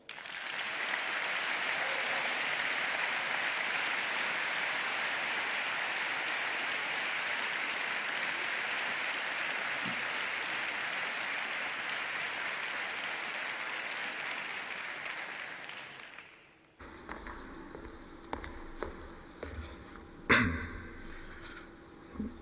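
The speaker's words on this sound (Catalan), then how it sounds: "M'agradaria que rebéssim un fort aplaudiment" A large audience at a literary awards ceremony in Girona gives strong, sustained applause, a dense even roar of clapping lasting about fifteen seconds before fading, followed by quieter room sounds.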